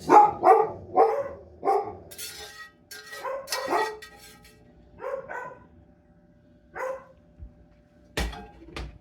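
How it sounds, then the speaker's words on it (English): Several dogs bark in bursts, some close and loud, others farther off, with short quiet gaps between volleys and a sharp final bark. "Not sure what the dogs are barking about"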